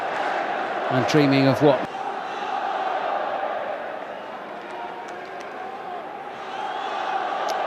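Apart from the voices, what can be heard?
football stadium crowd cheering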